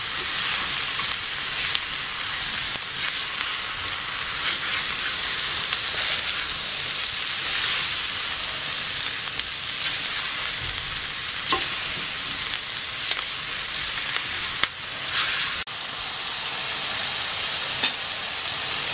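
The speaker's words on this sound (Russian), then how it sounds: "И все это нужно обжаривать приблизительно 2-3 минуты." Mushrooms sizzle steadily in a pan with onion, garlic and spices for an Indian bhuna khumb, a dense crackling hiss with occasional pops and stirring scrapes. It runs loud and unbroken throughout, with no talking.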